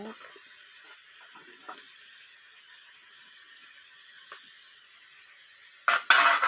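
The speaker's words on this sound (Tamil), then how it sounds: "உருளைக்கிழங்கு போட்டு நல்லா கிண்டி விட்டுட்டு கேரட்டை போட்டு நல்லா கிண்டி விட்டுருங்க" Potatoes and carrots frying in a pan for coconut milk rice, with a soft steady sizzle and faint stirring scrapes, then a louder burst of frying noise near the end.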